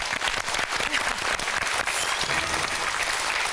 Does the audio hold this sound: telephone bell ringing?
no